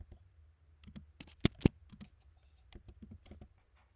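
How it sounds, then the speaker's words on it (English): Keys clatter on a computer keyboard as an address is typed, with irregular close taps and a couple of sharper louder clicks near the middle, no voices. "I'm going to go in and type in the address of the property I'm going to run a report for"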